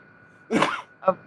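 Someone sneezes nearby, a sharp burst followed by a second smaller one about half a second later, heard over a faint steady hum.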